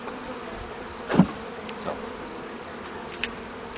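Honey bees around a hive: one close buzz swells and fades in about half a second against a quiet, faintly hissing background, with a few fainter insect flickers later and a single spoken word.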